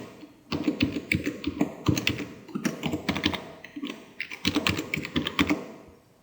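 Rapid, close keystrokes on a computer keyboard entering a location, with irregular bursts of clicks and short pauses between them; no talking.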